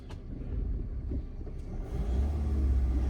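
A Range Rover Sport SDV6 diesel engine is revved during throttle body work, producing a low rumbling drone that swells toward the end, heard close with some faint clinks over it.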